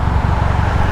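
A cold car engine idles while warming up, a steady low rumble close by with no talking and no change in pitch.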